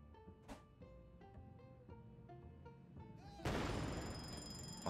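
An explosion in the video game Bum Simulator bursts in loud and broadband after a few seconds of tonal game music and sound effects, its roar sustaining to the end of the clip.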